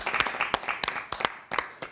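Audience applause in a studio show setting, sharp individual hand claps in quick irregular bursts from a small group, close and crisp.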